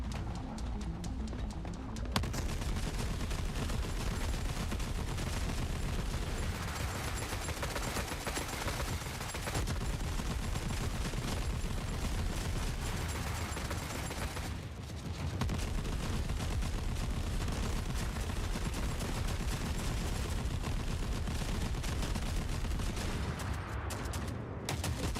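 Turret gunfire in a video game, a dense, continuous rattle of rapid shots that runs almost without a break, loud and close, with only a brief lull partway through.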